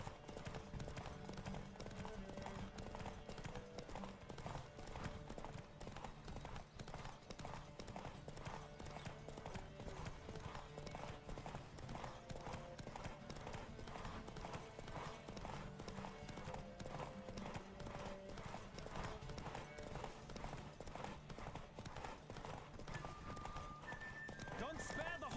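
Rapid rhythmic hoofbeats of a galloping horse in The Witcher 3: Wild Hunt run steadily throughout, with a brief whinny, set against a dense music-and-effects backdrop and occasional speech.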